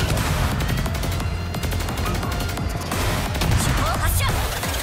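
Naval gunfire in a World of Warships clan battle, heard as steady rapid volleys and booms over a dense, continuous rumble of ship combat, with voices talking over it.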